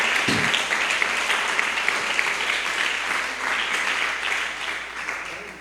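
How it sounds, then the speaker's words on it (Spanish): A church congregation applauds during a sermon, steady moderate clapping heard at some distance that continues for several seconds and gradually fades. "Dele un aplauso a Cristo"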